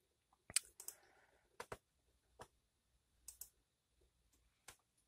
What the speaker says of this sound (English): Clicking the wrong button here.